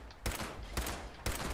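Gunfire in the video game Fallout 76: three loud broadband shots about half a second apart, each followed by a sustained noisy blast and reverberant rumble.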